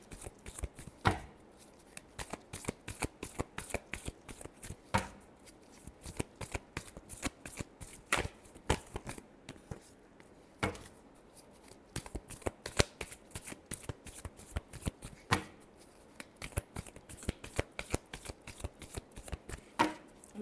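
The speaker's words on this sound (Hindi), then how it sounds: "Last shuffle." Tarot cards being shuffled by hand, a quiet, rapid run of crisp riffling clicks and slaps in irregular bursts, close and alone with no talk.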